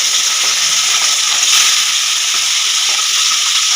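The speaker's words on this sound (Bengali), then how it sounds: "মাছটায় নুন হলুদটা ভালো করে মাখিয়ে নিয়েছি আমি ভালো করে ভেজে নেব মাছগুলো" Fish coated in salt and turmeric frying in hot mustard oil in a kadai, a steady loud hiss and sizzle that holds without a break from start to finish.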